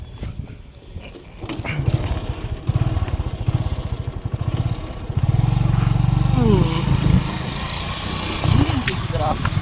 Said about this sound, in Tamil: வாங்க ஃப்ரெண்ட்ஸ், வண்டியை ஓட்டி பார்த்துருவோம்.